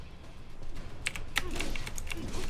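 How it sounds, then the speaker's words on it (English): Rapid keyboard and mouse clicks while playing Metal Gear Rising: Revengeance on a computer, sharp taps coming in quick irregular bursts with some louder clacks, close and clear, with no talking. "I'm going to play with keyboard and mouse."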